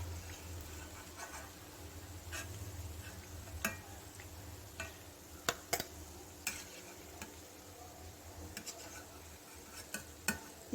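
Wheat flour biscuits frying in a pan until golden brown give a soft, steady sizzling hiss, broken by scattered light ticks and taps from stirring or turning in the pan. No one speaks.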